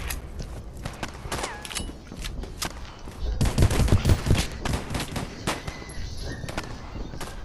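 Rapid gunfire from an overpowered gun in the Polyfield shooter game, sharp repeated shots in dense bursts with a heavier volley midway, loud and continuous.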